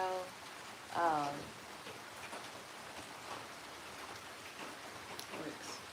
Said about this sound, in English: We're gonna show you guys the Hawaii rainfall.